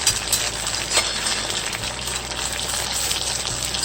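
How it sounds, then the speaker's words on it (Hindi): Bread rolls frying in hot oil over a medium gas flame, a steady close sizzle and crackle with faint pops and no voices. "अब ये तेल गर्म हो चुका है और हम अच्छा हमारे ब्रेड रोल डालेंगे"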